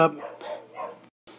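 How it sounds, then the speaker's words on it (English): Dogs bark in the background, short muffled yaps spread through the clip, with talk over them before a brief silence. "apologize for the dogs in the background"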